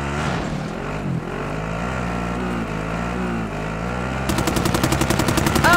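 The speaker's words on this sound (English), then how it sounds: "There's a lot of shooting going on." Gunfire in the battle royale game Call of Duty: Modern Warfare, loud and constant, turning into a fast, rapid burst of automatic fire near the end.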